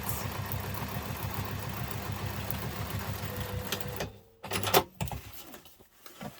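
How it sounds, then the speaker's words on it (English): A sewing machine runs steadily while stitching the seams of an urban messenger diaper bag, a close, continuous mechanical whir that cuts off after about four seconds, leaving brief handling noises. "when you go to sew your seams"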